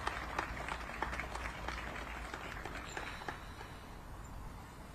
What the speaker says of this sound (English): please join me in giving Amazon a round of applause